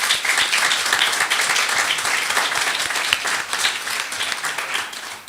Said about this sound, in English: So a big round of applause for Joy.